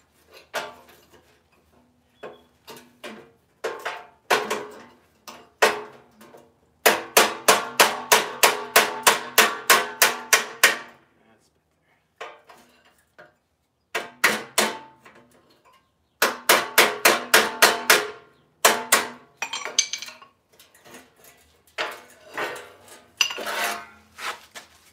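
A body hammer strikes the rusty roof of a 1967 Pontiac Firebird in close, sharp metallic taps, coming in rapid rhythmic bursts of a dozen or more blows separated by short pauses, with no talking.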